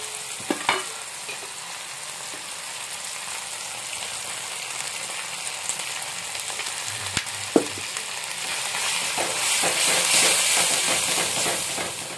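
Masala and ready-made ginger-garlic paste frying with softened tomato in a pan for a spicy Malvani non-veg dish: a continuous loud sizzle with occasional clinks of stirring, swelling slightly toward the end.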